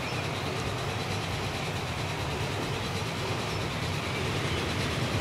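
A train running in the video game Transport Fever 2, a steady, dense rumble with constant rolling noise throughout, fairly loud and unbroken, with no talk over it.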